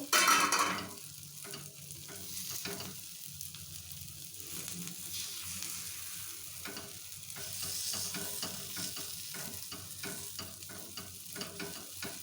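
Gunta ponganalu batter frying in a low-oil paniyaram pan over a low flame gives a steady close sizzle and crackle, with soft scrapes from turning the pieces, running throughout with no talk.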